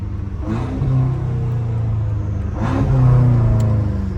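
A BMW M5 Competition engine revs twice, rising and falling with a throaty exhaust rumble, close by, with a faint crackle as the revs drop.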